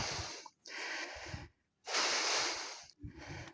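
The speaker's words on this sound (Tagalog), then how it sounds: "Grabe yung hingal ko guys." Heavy, rasping panting from someone who just climbed a hundred steps up Bulalacao Hills to a hilltop shrine, with three long hissing breaths separated by short pauses, very close to the microphone.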